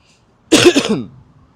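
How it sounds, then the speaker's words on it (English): A single short, dry cough, close and fairly loud, with brief silence before and after. "I still have a little dry cough."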